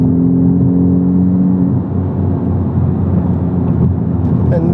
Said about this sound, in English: Ooh, immediately you can hear the exhaust waking up.